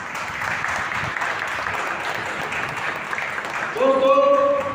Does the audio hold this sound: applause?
yes